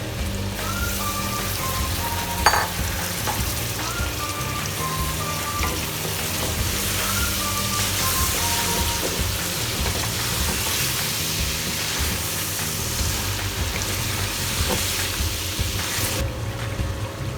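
Chicken karahi with tomatoes sizzles and fries steadily in a pan, a dense continuous crackle with an occasional stir or clink, close and fairly loud with no talk.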